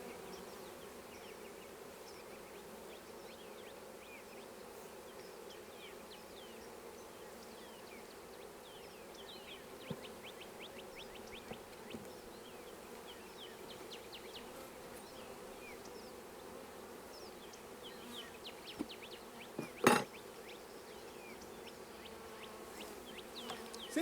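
Honey bees buzz steadily inside an open hive while workers uncap and eat honey, a dense close hum with scattered individual wingbeats and a sharp tap near the end.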